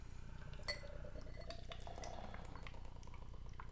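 Canned beer, a slightly older can of Abomination Brewing Old Ghoulish, poured aggressively into a glass: a steady close liquid rush with a brief clink near the start, then continuous fizzing and gurgling as the glass fills.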